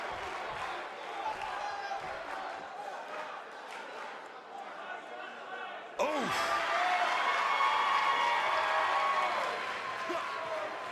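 Capacity crowd at an NXT wrestling event, a broad roar of applause and cheering that swells sharply about halfway through and holds loud to the end, with a commentator talking over it.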